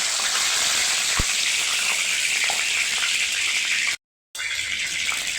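Bay leaves hit hot oil in a pan for vegetarian aloo posto, giving a steady, loud, bright sizzle that runs continuously, broken by one brief silent gap.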